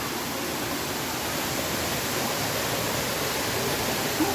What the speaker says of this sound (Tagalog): Oh, may falls din maliit dito.